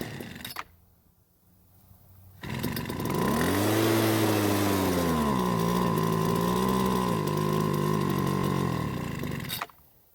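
A Homelite backpack leaf blower's small two-stroke engine is pulled over, catches and runs loud for about seven seconds with a wavering, surging tone, then cuts out abruptly when it stalls.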